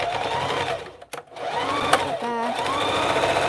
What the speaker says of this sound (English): I'm just sewing these sections